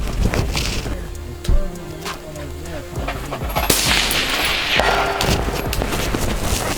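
Rifle shots at an outdoor shooting range during a community range day, heard as a few sharp, loud cracks over steady background noise, with people talking nearby.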